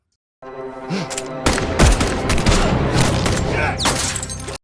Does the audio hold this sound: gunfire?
yes